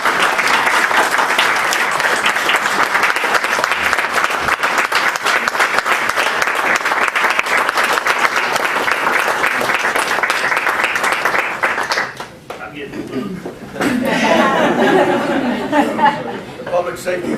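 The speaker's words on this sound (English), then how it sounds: "Y'all would give me a round of applause for that." Sustained, dense audience applause at a county board work session, loud and even for about twelve seconds, then dropping away into murmured chatter and light laughter before a second swell of clapping.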